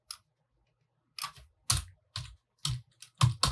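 Keystrokes on a computer keyboard while entering code in a Kotlin Android tutorial, a few separate clicks then irregular bursts of typing, close and fairly loud with no talk.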